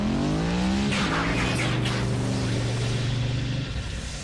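A car engine revs hard and roars continuously with a brief tire squeal, loud and close, then fades slightly as it pulls away.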